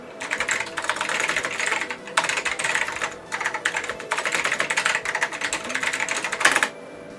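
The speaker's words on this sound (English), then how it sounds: "So we need to type up a document." Rapid typing on a computer keyboard for a mainframe text editor run from an OS/2 PC, steady close key clatter in several bursts with brief pauses and no speech.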